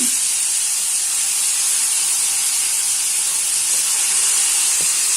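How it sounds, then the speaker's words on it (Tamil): A loud, steady sizzling hiss comes from a hot pan as brinjal is tipped in with sautéed onion and tomato for vendhaya kuzhambu. The sound holds constant throughout, with faint clinks and no voices. "நான் இந்த ஸ்டேஜ்ல கத்திரிக்காவை போட போறேன்"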